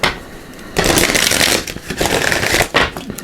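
A deck of tarot cards is shuffled in quick riffling bursts, close and loud, with brief pauses between shuffles.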